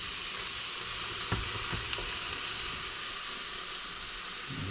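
Deer bacon burgers fry in a hot pan with a steady, dense sizzle that fills the whole stretch, loud and close, with a couple of faint clicks of utensils and no voices.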